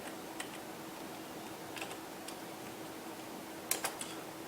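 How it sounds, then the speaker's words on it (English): A command typed on a computer keyboard in a Linux terminal, with sparse light key taps spread out and a quick cluster near the end over a steady fan-like hum. "how come I'm typing the command so fast now?"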